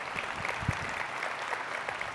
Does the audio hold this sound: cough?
no